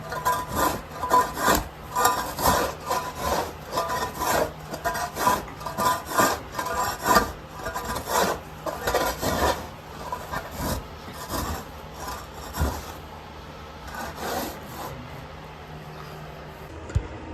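A shovel blade rasps steadily across a damp sheep pen floor, a rhythmic series of rough scraping strokes close by with no talking.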